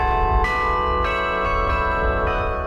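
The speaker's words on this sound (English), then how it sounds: "A lot of people have heard carillons or heard bells." Carillon bells ring from a university tower: a few loud, ringing strikes roughly every half second, each sustaining into a rich overlapping wash of tones.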